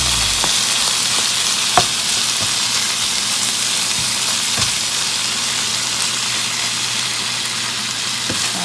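Sausage sizzles and crackles steadily in a hot pan as it heats through for low-carb stuffed bell peppers, a loud continuous frying hiss with occasional stirring clicks and no voices.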